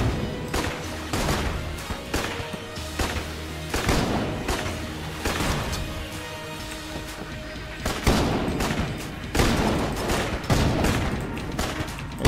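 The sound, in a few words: gun firing in the video game Enter the Gungeon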